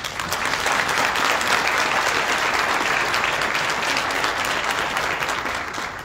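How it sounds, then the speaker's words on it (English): An audience at a diversity and inclusion symposium gives a round of applause, full and steady clapping from a sizeable crowd that stays even throughout and eases off slightly at the close. "I think they deserve a round of applause"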